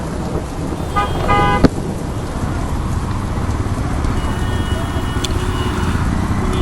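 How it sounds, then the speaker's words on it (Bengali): Heavy rain pours down on a motorcyclist's street during a downpour. The hiss is dense and constant, close and loud throughout, with a sharp tap or two near the start. "যেই বৃষ্টি শুরু হয়েছে বলার বাহিরে"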